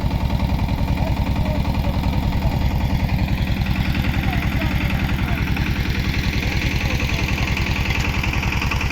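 A steady, low diesel tractor engine thrum with a fast, even pulsing beat runs continuously and fairly loud throughout.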